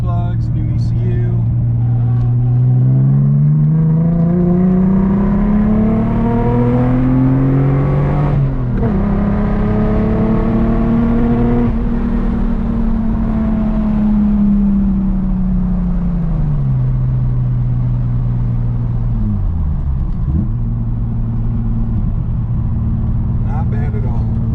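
A 1990 Nissan 300ZX fitted with a Jim Wolf ECU drives along, its engine droning steadily from inside the cabin with rising and falling revs through gear changes and a brief lift near the end.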